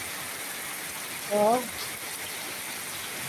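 Heavy evening rain falls during flooding in southern Leyte, a steady dense hiss throughout, with a single brief voice near the middle.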